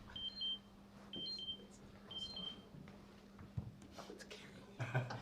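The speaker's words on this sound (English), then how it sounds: "His alarm's a little bit" An alarm gives three short, high electronic beeps spaced about a second apart, faint and thin in a quiet room, with soft background noise and a few light bumps afterward.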